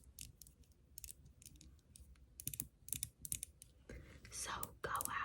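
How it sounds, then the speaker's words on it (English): A Gisou lip oil is handled close to the microphone, making soft clicks, taps and light fiddling noises in short irregular bursts, with quiet whispering in between. "I'm also playing with my Gishu lip oil, so ignore that."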